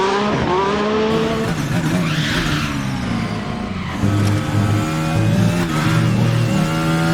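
FR X-22 race car in RaceRoom accelerating hard onto the start-finish straight, a loud, high-revving engine climbing through gear changes with a brief tire squeal.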